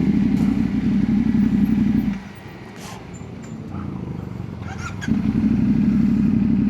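A 450 SR motorcycle engine idling nearby, a loud steady low rumble that drops away for about three seconds and then returns at full strength, with no talk over it.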